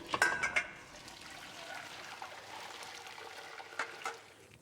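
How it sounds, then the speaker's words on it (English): Water from cooked beans being drained, a faint trickling and pouring with a few clinks of a pot or colander at the start, quiet and close in a kitchen. "So I'm just going to drain these beans."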